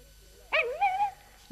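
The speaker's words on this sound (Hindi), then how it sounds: "ये एक पिल्ला है" A puppy lets out a single brief whimpering yip, a high rising then wavering cry lasting about half a second, close and clear against a quiet background.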